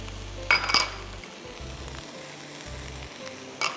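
Minced keema frying with chopped fresh ginger, garlic and green chillies in a pan, a steady close sizzle with a couple of sharp metallic clinks from a utensil against the pot.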